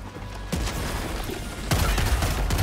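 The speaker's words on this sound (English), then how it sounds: "Throwing grenade!" Helldivers 2 combat erupts with a burst of gunfire and booming impacts, a dense loud barrage starting about half a second in and swelling again near the end as a grenade blast joins the shooting.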